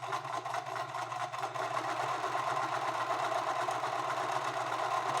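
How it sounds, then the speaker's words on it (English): A regular household sewing machine stitches fabric onto a stiff cap bill, running as a steady, close mechanical whir with a fast even needle rhythm and a low motor hum. It continues without pause and with no talking. "I've marked out these lines that I'm going to now stitch the fabric onto the bill."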